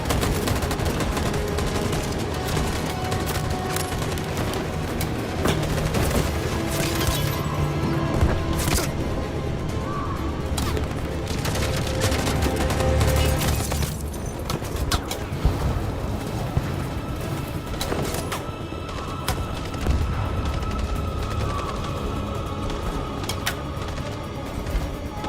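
Sustained gunfire in Detroit: Become Human, a dense, continuous clatter of shots and volleys rolling on for the whole stretch at steady loudness, with busy broadband noise and no clear pauses.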